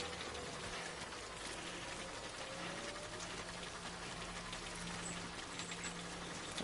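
Steady timefall rain in the Death Stranding video game, a dense continuous hiss pouring down evenly throughout, with a low hum beneath and no voices.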